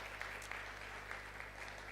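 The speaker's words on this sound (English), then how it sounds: "she deserves a big round of applause for that" Continuous applause from an audience at a business summit in Dubai, a steady dense wash of clapping heard at a moderate distance and fairly faint, with no talk over it.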